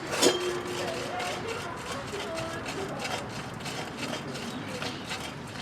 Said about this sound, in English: It spins freely, and spins for a good long time. But I hear a little bit of crunchiness.